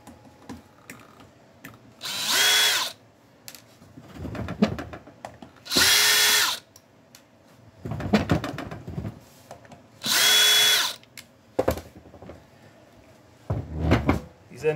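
Power driver with a number 2 square bit backing screws out of a dryer end cap: three short whirring bursts at steady intervals, close and loud, with clicks and handling knocks between them.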